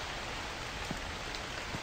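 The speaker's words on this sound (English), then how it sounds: "It is now raining and it is dark." Steady rain falling in darkness outside a convenience store, a soft, even patter with a few sharper drips, faint and continuous, no voices.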